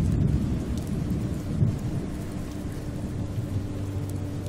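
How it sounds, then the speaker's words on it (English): Steady rain and thunder in the game Oxenfree, a continuous low rumbling wash with hissing rainfall throughout and a slight swell near the start, no voices. "it's raining"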